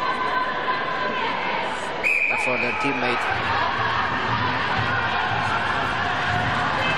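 Teammates in the stands at a youth sambo world championship final keep up a crowd roar of cheers and chatter, with one sharp whistle, while a commentator talks over it.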